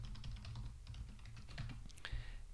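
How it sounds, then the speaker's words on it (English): Quiet, fast keystrokes on a computer keyboard as a password is typed in, a steady run of light clicks close to the mic with no talking. "So let me type that in."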